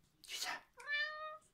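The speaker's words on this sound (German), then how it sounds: "Miau, willst du auch deine Meinung sagen?" A cat meows once, a clear drawn-out harmonic call close by, following a brief breathy noise, with someone talking around it in a woodland setting.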